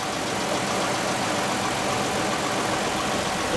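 A 1955 Nash Ambassador Super engine idles steadily and smoothly, a loud, even mechanical hum running throughout with no voices.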